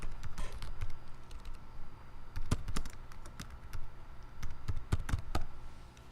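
Typing on a computer keyboard while writing a sample assignment, with steady clusters of key taps and a few sharper strikes, close and clear with no talking.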